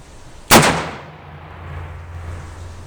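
A Smith & Wesson 500 Magnum revolver fires a single double-action shot. The blast is loud and close, with a sharp crack that decays into a rumbling tail, and no one talks.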